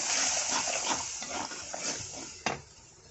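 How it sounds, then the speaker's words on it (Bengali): Fried onions being stirred with turmeric, oil and salt in a pan for a Bengali okra (bhindi) fry, a steady scraping and light sizzling with a sharp clack of utensil against pan near the end. "তো পেঁয়াজগুলো ভেজে নেওয়া শেষ, এখন দিয়ে দিব হলুদ, তেল, লবণ। নেড়ে দিব"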